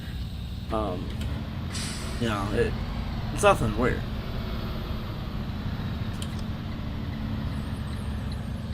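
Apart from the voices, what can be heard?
bus engine and air brakes in a bus driving video game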